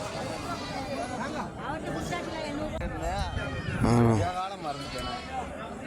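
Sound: sheep and lambs bleating

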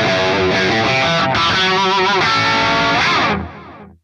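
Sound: electric guitar with flanger and distortion effect

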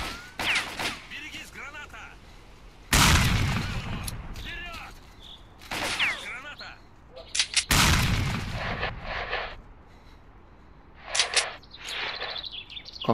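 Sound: grenade explosion in S.T.A.L.K.E.R. Clear Sky video game

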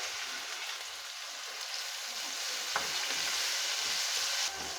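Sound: stirring tomatoes frying in oil

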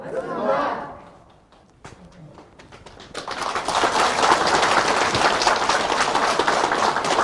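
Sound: audience applause

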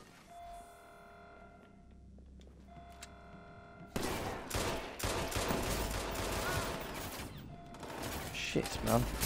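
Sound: gunfire in a shootout, from the video game Watch Dogs 2

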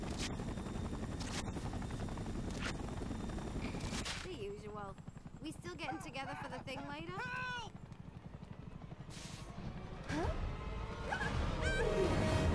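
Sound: helicopter in Spider-Man 3 video game

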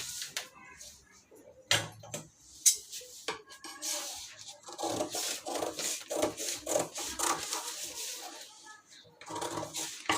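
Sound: cutting blouse fabric

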